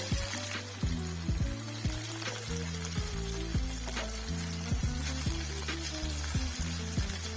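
Steady, loud sizzling of chicken frying in hot oil in a wok, with crackling pops and occasional clanks of a utensil stirring throughout.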